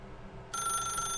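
A telephone rings in the video game The Stanley Parable, a steady electronic ring that starts abruptly partway through and holds clear and loud over quiet room tone.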